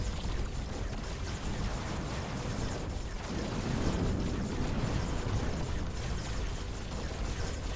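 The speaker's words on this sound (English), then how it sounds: "The assault carriers have plasma cannons." Plasma cannon fire from assault carriers in the space strategy game Terra Invicta, a dense, continuous roaring barrage of bursts and rumbles filling the whole stretch at steady loudness.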